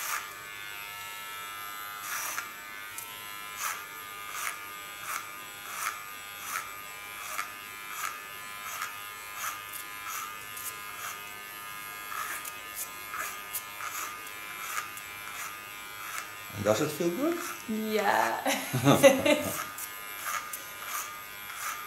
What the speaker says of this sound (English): Going to my clipper.